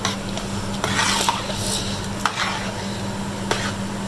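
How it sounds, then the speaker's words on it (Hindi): A spoon stirs and scrapes through potato curry in a cooking pot, making soft, intermittent clinks and scrapes over a steady low hum and faint background noise, with no talking. "बस इसे अच्छी तरह फेंट के थोड़ी देर हम पकाएंगे"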